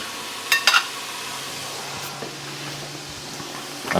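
Vegetables dropped into a hot pan on the stove, a few sharp clattering hits early, then a low steady sizzle and faint kitchen knocks, close and with no talking.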